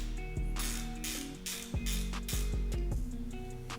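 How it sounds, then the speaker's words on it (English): A ratchet loosens the lower screws on the under tray molding of a Triumph Tiger Sport 660 motorcycle, giving close, sharp clicking in quick runs with a few distinct metallic snaps. "Triumph recommends loosening the lower screws on the under tray molding."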